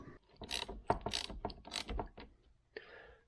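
A crankcase splitter tool is tightened on a 2005 Yamaha YZ250F engine case, giving a series of close mechanical clicks and ratcheting scrapes in short bursts with brief pauses between.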